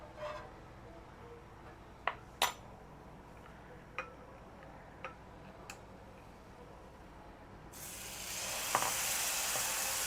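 Oil goes onto a hot griddle for a wheat flour crepe. A few faint ticks and crackles give way near the end to a sudden, loud hissing sizzle.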